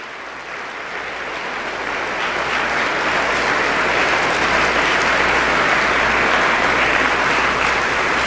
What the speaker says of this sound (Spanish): Le da un buen aplauso para él